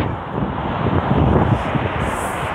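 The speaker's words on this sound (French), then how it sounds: "il y a beaucoup de vent" Strong wind outdoors in Polynesia, a loud, steady buffeting rumble that blows across the microphone without pause for the whole stretch.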